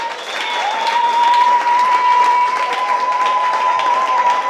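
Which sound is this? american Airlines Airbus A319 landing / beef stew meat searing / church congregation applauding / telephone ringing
church congregation applauding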